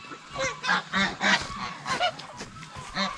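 Rescue goose on a farm honking in a run of loud, close, nasal calls, roughly eight bursts in quick uneven rhythm.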